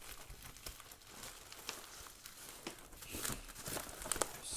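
Cardboard boxes holding a black Amiga 500 case and keycaps being cut open and unpacked, with faint close crinkling, rustling and scraping at an uneven pace and no voices.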